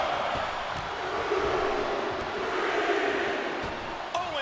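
Arena crowd in the WWE 2K25 wrestling video game chanting and counting along in a steady, loud wash of crowd noise that fills the whole stretch, with faint commentary-like voices mixed underneath.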